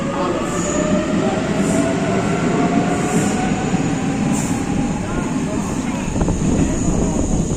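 A Rome metro train on line A rumbles and clatters steadily along the tracks, with rhythmic metallic clicks and faint wheel squeals, heard from inside the carriage.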